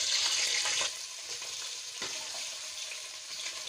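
Goat trotters sizzle in hot oil, opening with a louder burst of frying hiss that settles into a quieter steady crackle with occasional pops, close up and with no voices.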